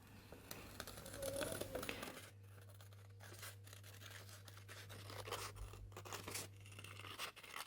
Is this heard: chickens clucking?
no